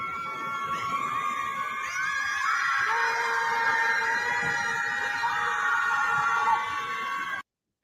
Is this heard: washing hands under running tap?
no